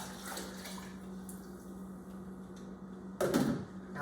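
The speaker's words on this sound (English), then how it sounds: "go ahead and add your water and broth" Water and broth pour steadily into a cooking pot for tortellini in brodo, a continuous close splashing that swells into a louder, heavier gush near the end.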